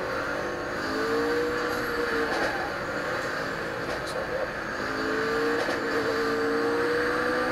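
A car in the racing video game Super Street The Game on PS4 roars steadily as it accelerates, a sustained engine drone with rising tonal whine throughout, loud and continuous.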